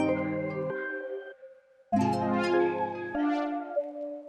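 A layered FL Studio beat plays a chopped pad with flute melody lines in distinct sustained sections, with abrupt cuts and pauses between phrases and no talking.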